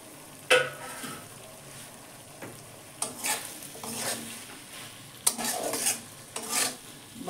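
Cabbage being stir-fried in a pan with spiced yogurt for a lentil dish, with intermittent scraping strokes of a spatula over a soft sizzle.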